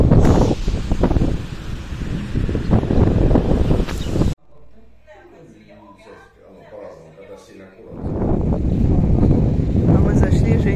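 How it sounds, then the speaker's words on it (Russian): Strong spring wind outdoors buffets the microphone with loud, rumbling roars. It fills the first four seconds, drops to a quieter lull with faint background sounds, then surges back hard for the final stretch. "Ветер, девочки, простите."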